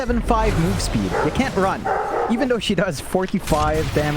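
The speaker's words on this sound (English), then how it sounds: "Sorry about the barking in the background." A dog barks and yips repeatedly in the background while someone commentates a Dota 2 match over it; the barks come in short bursts, fairly close and prominent against the voice.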